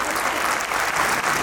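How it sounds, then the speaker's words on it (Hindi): Audience applause at Marwar Mahotsav 2023 welcoming a speaker from Bangalore, a steady dense wash of many hands clapping at once, loud and sustained throughout with no talk over it. "अब आप तालियां बजा के मेरा स्वागत कर सकते हैं"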